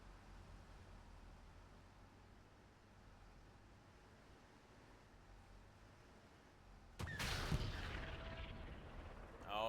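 A tank cannon shot striking a tank's track in a video game tank match: a low hiss, then a sudden loud blast that leaves a sustained roar.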